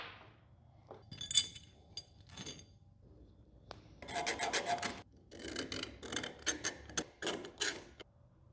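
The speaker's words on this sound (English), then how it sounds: "Let's go ahead and scribe that out on both plates." A scribe scratches a bolt pattern onto metal plates in a workshop, short raspy strokes in repeated bursts with light clinks between them, close and moderately quiet.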